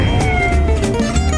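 A single drawn-out cat meow, close and fairly loud, wavering in pitch for about a second.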